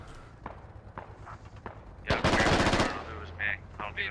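Automatic gunfire in the military shooter game Squad, a loud rapid burst of close shots lasting under a second after scattered distant pops, with brief radio chatter and voices around it.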